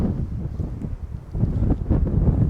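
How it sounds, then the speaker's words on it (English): Strong wind on a farm field buffets a radio microphone with low, gusty rumbling that swells and eases continuously, loud and close, with no other clear sounds. "On the radio mic today because it is really windy"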